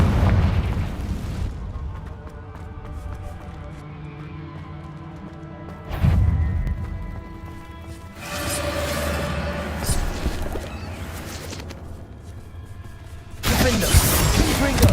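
Blasting spell explosions in a Harry Potter video game, several heavy booms with rumbling bursts spaced over fifteen seconds, mixed with game sounds and a voice speaking.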